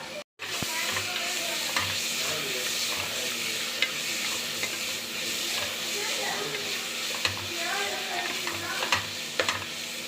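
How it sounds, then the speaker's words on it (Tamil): Tomato is sautéed in a pan for vegetable biryani, with a steady close sizzle running throughout. Scattered scraping ticks come from stirring, and there is no talk over it. "நல்லா வதக்கிக்கிடணும் தக்காளி கலந்துக்கலாம்"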